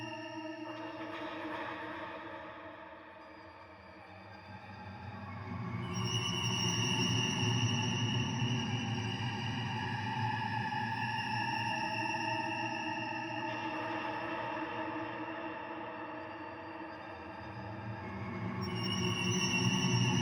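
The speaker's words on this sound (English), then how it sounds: "And we'll add a reverb also. Let's try the clouds. Quite a lot of mix." A sustained synthesizer tone swells and drifts with a heavy, washy Clouds reverb tail mixed high, slowly shifting pitch in a soft ambient drone.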